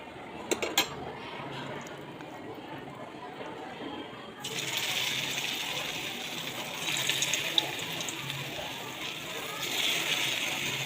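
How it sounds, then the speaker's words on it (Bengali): Snake gourd fritters drop into hot refined oil, bringing a sudden loud, steady sizzling hiss that swells again as more go in, after a few light clinks of utensils. "তেলটা গরম হয়ে গেছে। এবার একে একে বড়াগুলো দিয়ে দেবো।"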